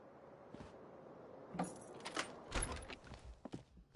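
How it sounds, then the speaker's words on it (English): Keys jingling and clinking in the video game Disco Elysium, a brief metallic jangle that starts faint and then swells into several close, bright rattles over about two seconds. "You hear a jingle. Keys are clinking."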